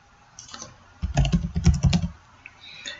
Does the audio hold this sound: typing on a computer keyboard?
yes